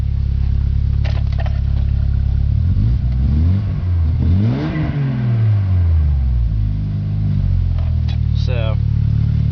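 A Volkswagen Corrado G60 engine cranks, catches and revs up in a rising and falling sweep, then settles, loud and close throughout, with someone talking over parts of it.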